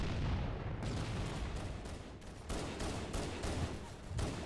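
Sustained rapid gunfire from a Halo: Combat Evolved match, loud and dense with bursts of shots and brief pauses, continuing for several seconds with no talking.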